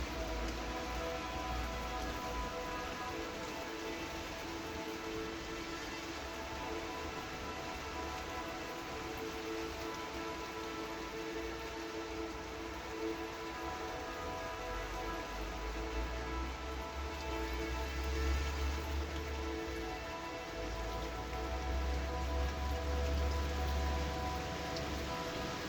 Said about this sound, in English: It's been storming for over 24 hours now.